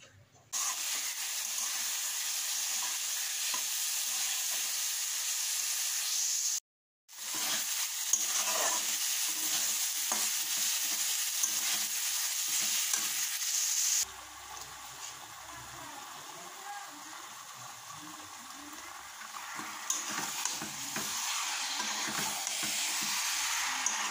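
Chicken and potatoes sizzling in a pan, a steady hiss with scattered stirring scrapes, briefly cut out, then continuing more quietly.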